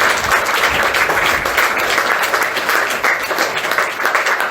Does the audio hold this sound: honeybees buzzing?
no